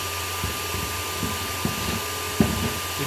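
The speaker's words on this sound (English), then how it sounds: "Oh, that's the air hose." An air hose from an air pump set to a low setting blows a steady, soft hiss throughout, with a few faint clicks and bumps on top and no voices.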